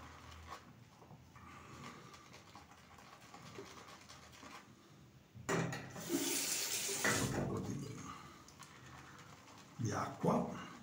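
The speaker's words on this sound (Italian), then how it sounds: "Acqua." Tap water runs into a sink during a wet shave with a Salina brush set, an Omega brush and River Lake soap. A steady gush swells after a quieter start and returns briefly near the end, fairly close, with someone talking around it.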